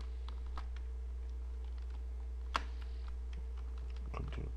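A few scattered keystroke clicks on a computer keyboard as a Ctrl+Shift+I shortcut is pressed, with one sharper tap near the middle and a last cluster at the end, all close and quiet over a steady low hum.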